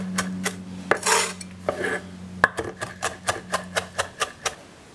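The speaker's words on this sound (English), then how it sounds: "grabbing a little bit of fresh thyme and doing the same thing. Just rough chopping, rough chopping." A knife rough-chops fresh thyme on a cutting board in a home kitchen, first a few scattered knocks and scrapes, then a steady run of about ten crisp rhythmic chops, close and unaccompanied by talk.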